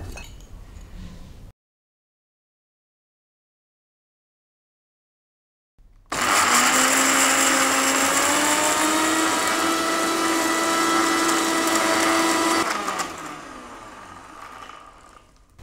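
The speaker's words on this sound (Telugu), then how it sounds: "ముందు నానబెట్టుకున్న డ్రై ఫ్రూట్స్ అన్నిటిని మిక్సీ వేసుకోవాలి" A kitchen mixer grinder runs loud and steady for about seven seconds, pulverizing soaked almonds, pistachios, cashews, watermelon seeds and poppy seeds with a little water, its motor whine holding steady before winding down, after a brief silence.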